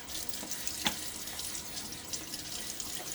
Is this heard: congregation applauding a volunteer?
no